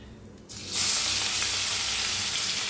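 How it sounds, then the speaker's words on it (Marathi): Steady hissing sizzle of mustard seeds crackling in hot oil, starting quietly and swelling to a constant loud spatter after a moment, with no talking. "मोहरी चांगली तडतडा लागल्या।"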